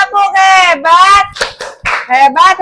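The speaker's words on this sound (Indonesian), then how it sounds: "Kita kasih tepuk hebat lagi. Tepuk hebat." A primary school class does a 'tepuk hebat' cheer, chanting loudly together in a sing-song rhythm with a few sharp bursts of clapping between the chanted phrases.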